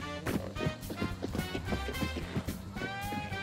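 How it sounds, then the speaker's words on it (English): Horse hooves clip-clop in the game Hunt: Showdown, a busy rhythmic patter of hoofbeats mixed with dense game ambience and music, fairly loud and spread around. "I heard a horse"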